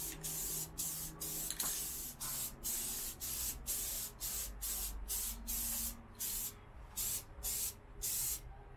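Repeated bursts of gloss protective enamel spray paint hissing from an aerosol can, about a dozen short sprays in a steady rhythm with brief pauses between them.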